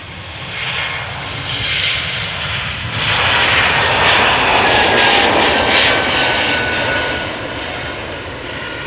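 An Airbus A220-300 jet airliner departing Amsterdam Schiphol roars past nearby, its engine noise swelling to a broad, loud rush and then easing slightly as it moves on.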